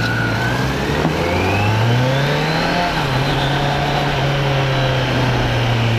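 A Kawasaki Z900 motorcycle engine revs loud and steady, its pitch climbing, dipping and settling into a sustained drone for about six seconds with no talking.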